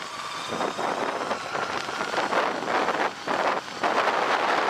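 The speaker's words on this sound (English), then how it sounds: "It's pretty windy out here, really wide open now, in the open." Strong gusty wind on an open dry lake along the Mojave Road buffets the microphone in a continuous roar, rising and dipping in bursts, with no voices.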